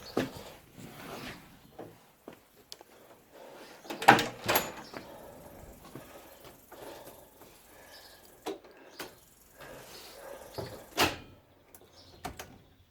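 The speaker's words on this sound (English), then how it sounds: "Oh, look, door closes." Doors on a 1972 Range Rover being shut, several sharp thuds and clunks spaced across the stretch, with the loudest pair near the middle and more closes later, amid quieter handling noises and no talking.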